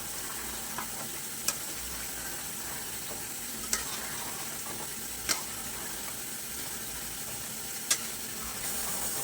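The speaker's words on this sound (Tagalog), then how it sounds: "Magluluto ng biko." Biko, a Filipino glutinous rice cake, being stirred as it cooks in a pan, giving a steady soft sizzle and scraping with a few sharp clicks of the spoon against the pan.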